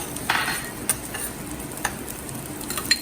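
Garlic frying in hot oil in a pan gives a faint, steady sizzle, with a few light clicks of a utensil against the pan.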